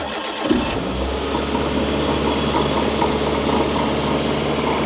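The starter of a Proton Impian car cranks briefly before the engine catches and settles into a steady, close idle hum.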